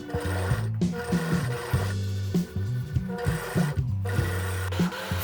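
Sewing machine stitching the facing shoulders of a pinafore dress, running in bursts of fast mechanical whirring separated by brief pauses, close and alone.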